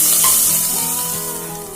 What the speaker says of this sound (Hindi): सारी चीजों को हमें अच्छी तरह से चला लेना है।